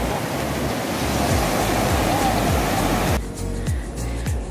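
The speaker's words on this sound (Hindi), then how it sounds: "आप आवाज सुन सकते हो पानी का।" Rushing water pours at the Vandri Lake waterfall, a loud broadband roar filling most of the clip before it suddenly drops to a quieter, thinner wash near the end, with no talking.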